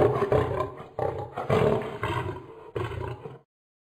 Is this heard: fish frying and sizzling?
no